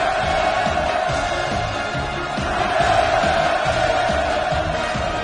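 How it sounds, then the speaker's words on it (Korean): A huge crowd roars hurrahs at the completion ceremony of the Wonsan Kalma coastal tourist zone, a continuous loud wall of massed cheering and chanting that swells slightly midway. "폭풍 같은 만세 환호성이 하늘 땅을 진감했습니다"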